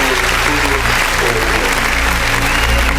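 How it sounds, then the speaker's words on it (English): Audience applause for Miss and Teen contestants walking onstage at the Miss Bharat USA 2025 ethnic round: a steady, dense wash of clapping fills the whole stretch under loud stage music. "Please give them a big round of applause as they enter the stage"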